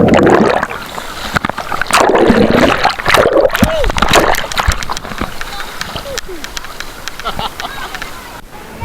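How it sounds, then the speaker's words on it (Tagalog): People swim and splash in the sea beside a boat during island hopping off Boracay, with steady splashing and churning water under close, continuous talk. "ini-enjoy na lang naming ibang mga joiners ang pag-swimming dito sa may gilid ng aming bangka"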